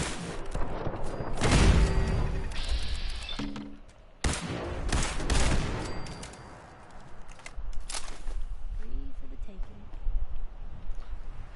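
Gunfire destroying turrets in Fallout 4: several loud bursts of shots and booming impacts, spaced irregularly across the clip, close and punchy, with game ambience and a voice talking between them.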